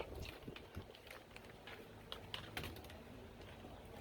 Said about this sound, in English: This is my external keyboard.